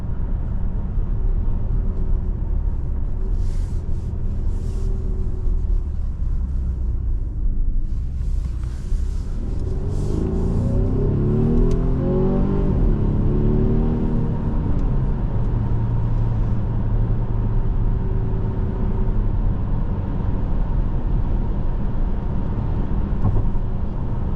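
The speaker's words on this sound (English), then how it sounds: "the engine sounds really, really good" A 2024 Volvo XC60 T8 Recharge engine hums steadily under road noise while driving, with a low cabin rumble and a brief rising tone midway as the engine picks up.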